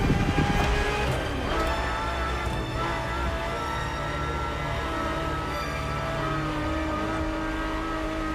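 Ferrari supercar engine heard from the cabin in The Crew Motorfest, a loud, steady high-revving roar with rich harmonic tones, briefly surging early on before holding a sustained drone, with no talk.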